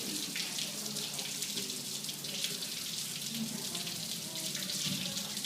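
White wine drains from a sterile filtration line in a continuous hissing gush of liquid, steady and fairly close, with no voices over it.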